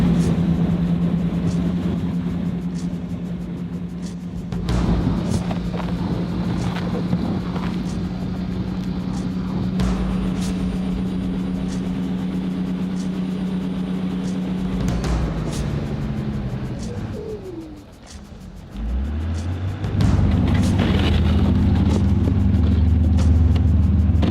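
A jet boat's engine drones steadily while it eases through ice on a frozen river near a marina, a loud constant hum that dips and shifts pitch as it maneuvers, with knocks and scrapes from ice.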